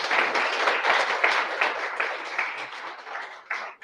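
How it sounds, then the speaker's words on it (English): An audience at a London Web3 meetup applauds the speakers, with steady, even clapping throughout, moderately loud and without voices. "I'd love to give them a round of applause."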